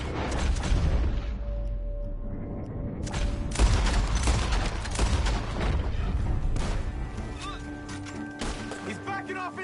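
Gunfire and crashing impacts in Red Dead Redemption 2 form a dense, loud barrage that carries on almost without a break. Voices talk over the shooting.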